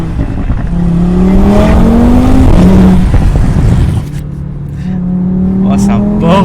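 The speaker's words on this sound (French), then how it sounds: "on monte un petit peu dans les tours" An Audi RS3 engine, around 590 hp and running an SP98/ethanol multimap, revs up loudly through the gears with rising tones and then eases off, all heard from close by.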